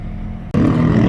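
Ferrari F430 Spider driving past on a road in the Vosges, a brief engine roar that swells suddenly after a near-silent gap and stays loud and close.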